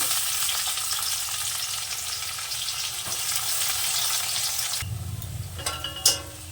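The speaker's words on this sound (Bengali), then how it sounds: "পেঁয়াজটা আমি হালকা লাল করে ভেজে নিয়েছি" Onions frying in oil in a home kitchen pan for an egg curry, a steady broadband sizzle that drops abruptly near the end, followed by a few sharp clinks and scrapes.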